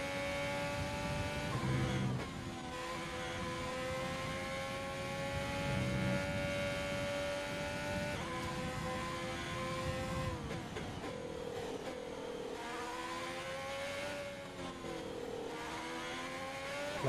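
Simulated Formula 1 car engine from F1 2020 on Xbox One, a steady high-pitched whine with pitch sweeps as the car slides and drifts through corners, loud and continuous with no talk.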